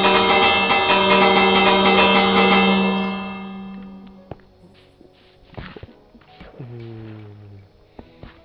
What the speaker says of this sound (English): Oh no, that's my doorbell.